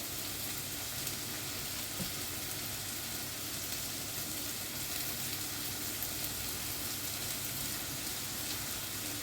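Small balls of luqaimat dough frying in hot oil, a steady, even sizzle and bubbling that holds at a constant low level throughout with no talking.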